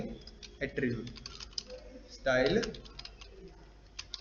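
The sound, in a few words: typing code on a computer keyboard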